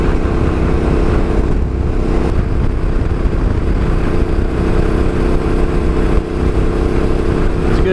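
A Yamaha Ténéré motorcycle rides along steadily with its engine droning loud and close, a continuous low rumble carrying wind and road noise; individual gear shifts are not clearly separated.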